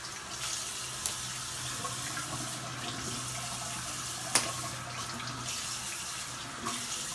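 Warm water runs steadily from a bathroom tap into a sink while a face is being rinsed, the flow continuous and close, with a few small knocks and splashes.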